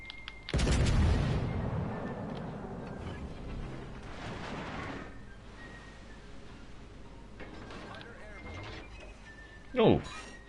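Warship X and Y turrets firing in World of Warships: Legends, a heavy booming salvo up front that rumbles and fades, followed by quieter distant impacts while a voice talks over it.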